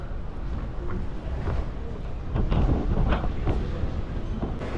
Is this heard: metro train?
yes